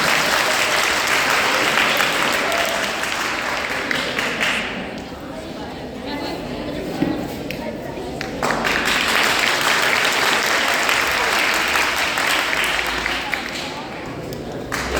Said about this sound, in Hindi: जोरदार तालियां बजाकर उनका स्वागत है